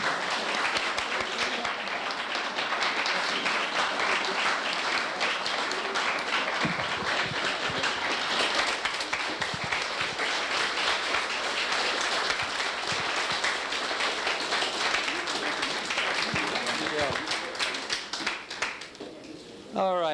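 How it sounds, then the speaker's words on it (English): Sustained applause from an audience after a band or marching performance, a dense wash of clapping that runs steadily for about twenty seconds before thinning near the end, with some voices mixed in. "Let's give them all a round of applause."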